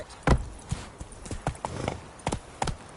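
Roach the horse galloping in The Witcher 3, a faint, quick run of hoof clip-clops spaced over a few seconds with no talking.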